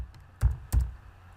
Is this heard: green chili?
no